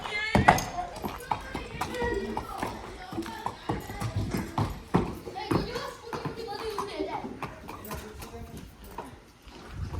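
Hooves of a mare clip-clopping, heard as irregular hard taps and knocks close by, mixed with people talking, children's voices and other background activity.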